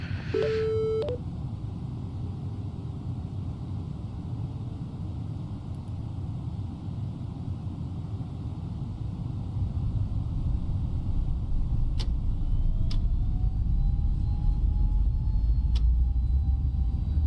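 Airbus A321neo by FSLabs in a flight simulator on its takeoff roll from Madeira, a steady low engine rumble that swells and deepens as it accelerates. Sharp electronic beeps sound near the start, with faint tonal sweeps later.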